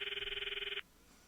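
A phone rings unanswered in the video game Steins;Gate, a steady electronic trilling ring that holds for under a second and then cuts off into quiet.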